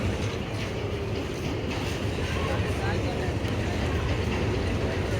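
Passenger launch boat slowly reversing at the Barishal ghat on the Dhaka–Barishal route, giving a steady low engine drone and churning water wash that stays constant and close throughout.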